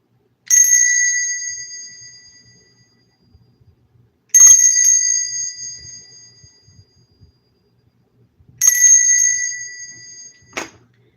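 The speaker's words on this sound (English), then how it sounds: "I'm going to ring this bell three times" A single bell struck three times at even intervals, each ring loud and bright with a long ringing decay fading into quiet, the last one briefly damped.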